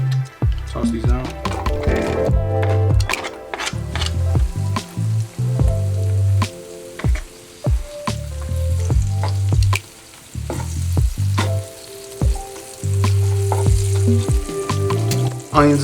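Onions sizzle and crackle steadily in a hot pan for a vegan stew, with intermittent stirring and tossing clatter, a low tonal hum running underneath and speech in the background at times.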